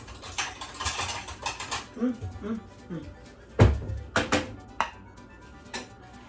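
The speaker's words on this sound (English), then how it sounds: "Let me get a bowl and put my food in there" Pasta pomodoro with mozzarella is served into a bowl in a home kitchen, with sharp clinks and scrapes of utensils against dishware, one louder knock midway, and a voice heard faintly in places.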